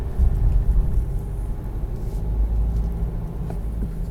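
Car engine accelerating gently in a stop-start equipped car, a steady low rumble throughout from inside the cabin, without any clear rise in pitch.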